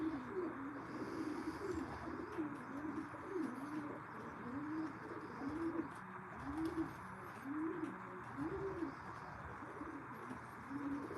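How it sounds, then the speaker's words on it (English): Pigeons cooing in a steady, repeating rhythm of soft rising-and-falling calls, fairly faint and close, over a constant background hiss with occasional chirps. "I let the birds out every day, Abdul."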